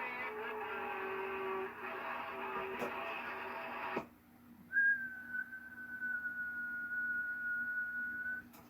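A person whistles into a CB radio microphone while testing radios such as a Galaxy DX-939, Uniden PC 76 and Cobra 29, giving a steady, sustained whistle tone after a noisy, buzzy stretch, with no talking.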